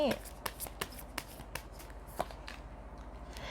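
Oracle cards are shuffled by hand in quick, soft riffling bursts at close range, about eight crisp flicks in a row that fade toward the end.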